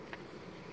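Bees buzz faintly and continuously around hive frames during hive work, a low steady hum with one brief brighter flick near the start and no talking.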